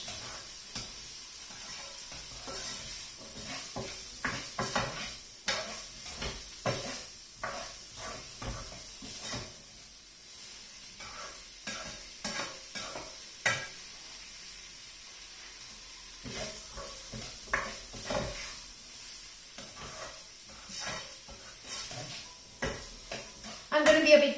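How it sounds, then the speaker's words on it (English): Onions and vegetables sauté in a pan for vegetable khichdi, giving a steady low sizzle broken by frequent spoon clatters and scrapes against the pan, close by and fairly quiet, with a louder clatter at the end. "so let that saute with the onions as well for a couple of minutes until they're"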